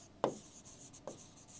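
Pen on paper during a Bengali geometry lesson, heard as two short scratchy strokes, the first louder, over a quiet room hiss with no talking.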